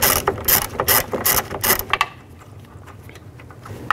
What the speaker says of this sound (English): There's 3 nuts here. Use a 10mm socket.